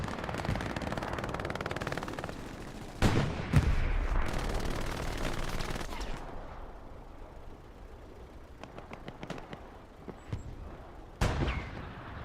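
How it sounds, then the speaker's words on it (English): Sustained bursts of automatic fire and scattered gunshots from the World War II shooter Hell Let Loose on the Driel map, loud and dense in the first half, then thinning to sporadic distant shots with a final burst. "There's something firing back here"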